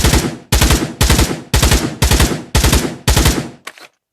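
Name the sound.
rifle firing in three-round burst mode, Pavlov Shack VR game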